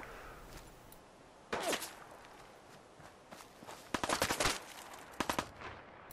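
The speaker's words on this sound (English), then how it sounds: "they're definitely shooting at me." Gunfire in the video game Fallout 4: bursts of rapid shots crack out in clustered volleys, the loudest near the end, over a steady background of footsteps and game ambience.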